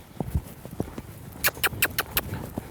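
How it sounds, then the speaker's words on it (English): A horse lopes along, hoofbeats landing in a quick uneven rhythm of soft thuds, then sharper, brighter strikes in a close cluster, fairly near and clear with no talk over them. "Without kicking him, we're loping off."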